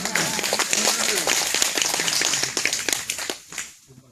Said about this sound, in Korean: 이거 박수 한번 쳐야 되는 거 아닌가요?